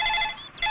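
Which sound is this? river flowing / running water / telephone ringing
telephone ringing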